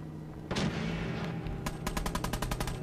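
Gunfire in a Fallout 4 firefight: a loud single shot, then a rapid string of sharp automatic bursts close by, with no talk.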